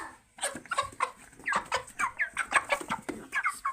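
Home-raised chickens cluck and squawk close by in a busy, overlapping chorus of short calls, with no talking over them.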